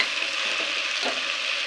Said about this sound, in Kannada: ಚೆನ್ನಾಗಿ ಮಿಕ್ಸ್ ಮಾಡೋಣ.